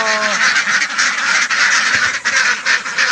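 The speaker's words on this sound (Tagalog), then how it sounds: "palalabasin na natin yung mga ating mga itik napakaingay na" A flock of domestic ducks being let out of their pen, loud and continuous honking and quacking close by throughout, dense overlapping calls with no pauses.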